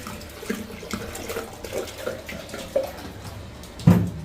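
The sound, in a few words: pouring water into a wok with spice masala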